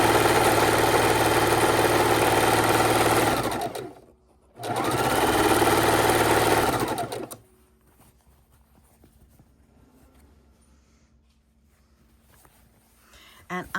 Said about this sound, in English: So what we're doing is sewing these 2 different lengths of fabric together so we can create a beautiful 4 patch.